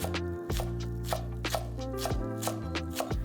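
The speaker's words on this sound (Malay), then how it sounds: "Lepas tu kita potong halus ataupun potong nipis." A knife finely chops ulam herbs and long beans on a board in quick, regular strokes, with soft music playing underneath.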